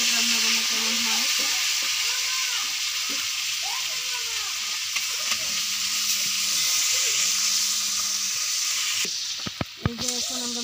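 Pangas fish pieces frying in hot oil in a pan, a loud continuous sizzle with a few stirring scrapes and a brief clatter near the end, close up and without talk.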